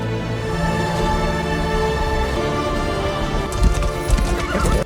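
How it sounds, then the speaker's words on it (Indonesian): Horses ridden by a band of barbarians setting off with stolen mounts, hooves clip-clopping steadily and loud throughout, with a horse neighing and busier hoof clatter near the end, under a layer of tonal film score. "Dan rombongan Damnanti dengan kuda curian melanjutkan perjalanan"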